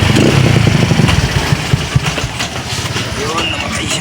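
A Sniper 135 motorcycle fitted with a racing CDI revs close by with a throbbing mid-pitched engine note that rises and falls over a few seconds, loud and steady.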